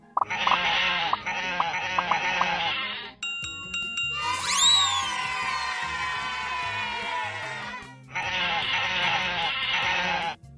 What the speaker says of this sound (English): Oh no! All the sheep have escaped!